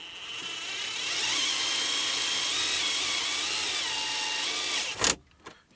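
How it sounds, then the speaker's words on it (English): A small screw gun drives screws into a plastic car radio installation kit for a 1999–2006 BMW 3 Series, whirring steadily for several seconds with slight pitch wavers, then stopping abruptly with a couple of clunks. "So even with my little screw gun, it's going to cause an issue."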